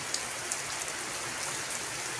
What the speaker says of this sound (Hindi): ये लोधरा में शदीद तूफ़ानी बारिश हो रही है।